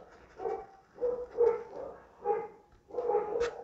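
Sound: dogs barking at people in the street

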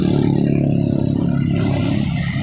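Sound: TransJakarta bus passing on the street

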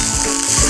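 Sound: beef steak sizzling while frying in a pan

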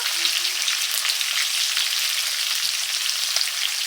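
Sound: potatoes frying with turmeric, cumin and spices in pan

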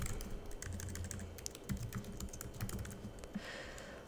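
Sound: typing notes on a computer keyboard

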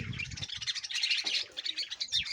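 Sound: Java sparrows chirping in a breeding colony

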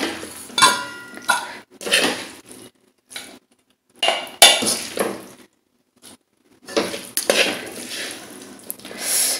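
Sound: pots and utensils clanking while transferring cooked dishes

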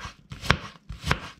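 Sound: knife chopping onion into cubes

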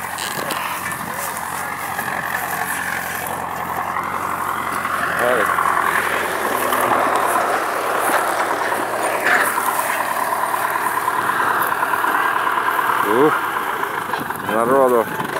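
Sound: fire engine arriving and idling

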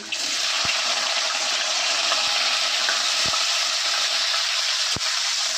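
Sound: chopped green beans frying in a pan for Maggi masala

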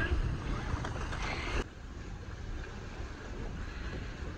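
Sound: sailboat sailing through the reach

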